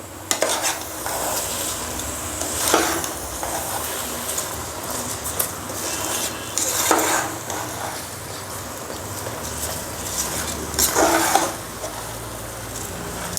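Rice being stirred into a pot of mushroom biryani, a steady soft sizzle with periodic scraping and shuffling of grains as a spoon sweeps through, close and unaccompanied by voices.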